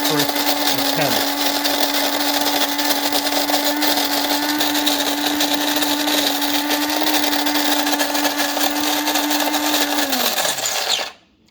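A coffee grinder coarsely grinding Aldi whole coffee beans, a steady loud whirring drone held for about ten seconds before winding down and stopping.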